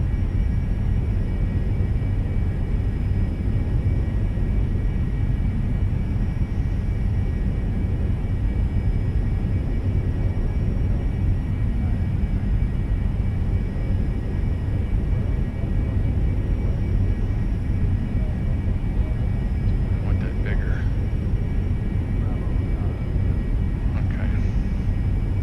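A Cessna Citation II jet in X-Plane 11 descends on approach, giving a steady, even cockpit drone with a low rumble and faint high whines, unbroken from start to finish.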